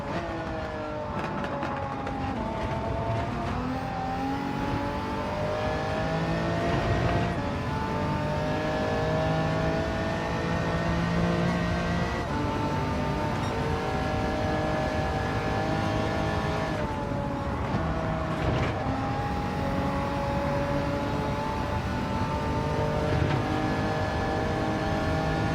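A race car engine in Gran Turismo 7 on sport medium tires drones loudly throughout, its pitch climbing and dropping repeatedly through gear changes, with no talk over it.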